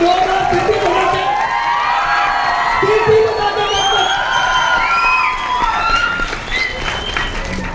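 An audience at a business seminar on a Smartvalue repurchase plan claps and cheers, continuous loud applause with whoops and shouting voices running through it for the whole stretch.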